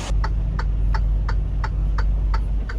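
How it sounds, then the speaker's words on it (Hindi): Truck windshield wipers sweep back and forth during night driving in snowfall near Winnipeg, Manitoba, eight evenly spaced rhythmic thumps about every third of a second over a low, steady engine hum. "वेपर चल रहे हैं।"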